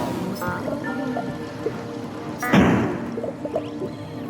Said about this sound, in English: And ended up accidentally flushing myself